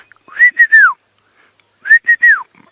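A person whistles an imitation of a white-faced whistling duck's call: three quick rising-falling whistled notes, a pause, then the same three-note phrase again, clear and close.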